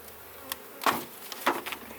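Honeybees fly close past at a hive entrance: a faint steady buzz with brief louder swells as single bees zip by near the listener, otherwise quiet.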